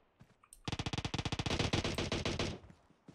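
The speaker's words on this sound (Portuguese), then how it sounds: "Tá rolando tiro aqui na frente." Rapid automatic gunfire in PUBG Mobile, a fast burst of around twenty sharp shots fired in a steady rhythm, loud and close, with no talking.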